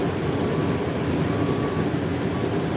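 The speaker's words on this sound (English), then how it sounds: "going to turn the buzzer on." A buzzer machine used for spreading stone runs loud and close in a steady, unbroken mechanical rumble, with no talking.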